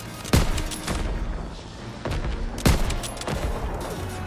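Gunfire in the Call of Duty: WWII D-Day battle, with sharp, loud shots around 0.3 and 2.7 seconds standing out from a dense, continuous wash of distant weapon fire and battle noise.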